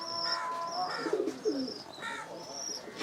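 Racing pigeons coo softly inside a home loft. Low, throaty coos repeat in short phrases, and faint chirps from other birds sound in the background.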